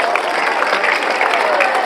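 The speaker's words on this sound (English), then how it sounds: "So please clap for our ma'am also." Students at a school's final assembly applaud their teacher with dense, sustained clapping from a large crowd that holds at an even, loud level.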